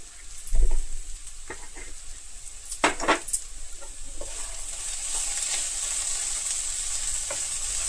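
Okra (bendakaya) fry with salt stirred in a pan, a steady close sizzle with a few scraping clinks of a spoon against the pan early on, the hiss growing fuller toward the end, no talking.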